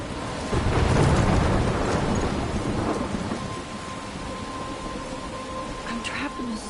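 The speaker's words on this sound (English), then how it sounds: "I'm trapped in a storm?" A thunderstorm with rain in a PS4 video game: loud rumbling thunder swells early, then settles into a steady rain wash with a faint sustained tone running through.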